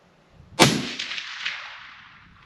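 A rifle fires a single cold-bore shot at a target, a sharp loud crack followed by a long echo that rolls and fades across open ground for about two seconds.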